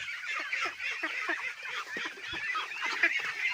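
A flock of domestic ducks kept for laying and fed azolla, quacking and honking in dense overlapping calls close by, without a break.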